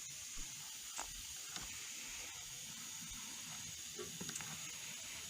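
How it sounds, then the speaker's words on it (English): Steady hiss of steam escaping from the safety valve of a 20-year-old Mamod Queen's Golden Jubilee model steam locomotive, faint and continuous with a few soft clicks, no talk. "Plenty of steam, you can see it coming out of the safety valve."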